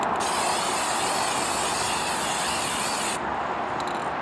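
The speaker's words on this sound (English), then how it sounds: "I hold the can about 12 inches away from the mold, and then I turn it and I spray it a second time" Continuous hissing spray from an aerosol can of boron nitride separator coating a glass fusing mold, held about a foot away, a steady close burst lasting around three seconds before cutting off.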